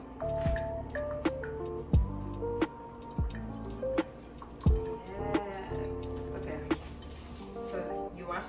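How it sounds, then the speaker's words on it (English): Water drains off freshly washed rice in a kitchen: wet drips and squishy splashes, with a few sharp drops standing out over a steady, busy background. "I'm taking out the water now."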